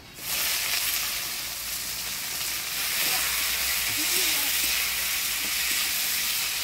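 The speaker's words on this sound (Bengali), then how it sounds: "এবার দিয়ে দিব পেঁয়াজ কুচি।" Chopped onion hits spiced oil holding whole garam masala, dried red chillies and bay leaves, setting off a loud, steady, close sizzle and hiss that carries on without a break for several seconds.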